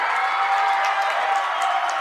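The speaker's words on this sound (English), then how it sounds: "The fans on their feet cheering on their side" Fans at a girls high school soccer game, Bountiful versus Olympus, cheer steadily as a dense, loud crowd roar, with occasional whoops rising above the sustained noise.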